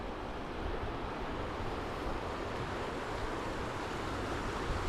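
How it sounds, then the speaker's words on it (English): Rushing water of the river rapids along US Highway 50 near Salida, Colorado, roars continuously, a broad steady wash of flowing river noise mixed with wind, with no voices present. "you can hear the river pretty good"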